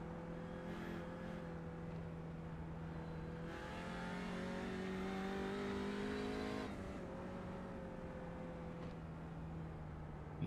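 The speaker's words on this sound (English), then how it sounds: "you got a front wheel drive car here" Front-wheel-drive Audi GT race car in the iRacing sim, its engine droning and shifting pitch through gear changes, steady and fairly faint with no voices.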